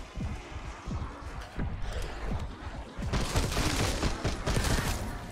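Pistol fire in Black Ops 6 Zombies on the Liberty Falls map, a series of sharp shots at an uneven pace, busier and denser in the second half, with game noise around them.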